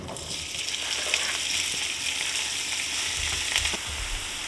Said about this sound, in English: We're gonna start off by browning our sausage.